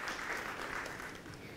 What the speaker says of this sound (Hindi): जोरदार तालियां हमारे सभी भागीदारों के लिए यहाँ पर